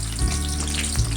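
Onions hit hot oil with a sudden sizzle that carries on for the brief moment, with a low rumble underneath and a couple of soft bumps.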